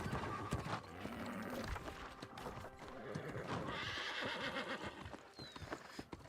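Video game horse clip-clops along in rhythmic hoofbeats, then gives a loud whinny partway through, with steady galloping continuing close by and light game sounds around it.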